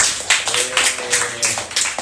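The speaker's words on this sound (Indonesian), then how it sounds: "Oke, tepuk tangan buat semua." Audience clapping at a fan Q&A event with JKT48 members, a brief burst of dense, steady applause with rhythmic claps standing out, moderately loud.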